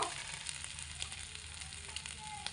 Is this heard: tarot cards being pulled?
no